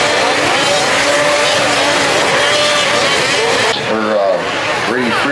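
Racing snowmobiles roar past on a track, their engines whining loud and steady before dipping as they go by, with an announcer talking over the noise.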